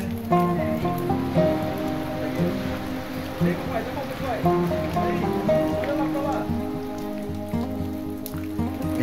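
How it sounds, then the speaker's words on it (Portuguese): Water seeps and drips constantly from the damp rock walls of the Gruta que Chora cave on the Brazilian coast, a steady patter of drops like light rain, partly masked by a louder tonal background. "as paredes estão sempre úmidas, sempre pingando"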